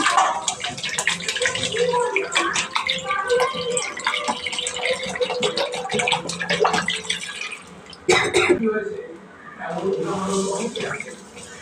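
Cold water pours and splashes into a vessel in a household kitchen, a continuous gushing that dips briefly midway and then resumes. A voice can be heard faintly beneath the flow.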